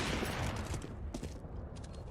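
AK rifle gunfire in a CS:GO esports match on the map Overpass, FaZe Clan against G2: a burst of quick, overlapping shots with a few sharper taps, fairly faint and muffled, with no talk.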